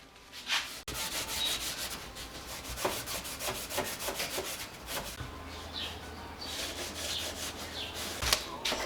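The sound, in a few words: scuffing V8 cylinder head mating surface with Scotch-Brite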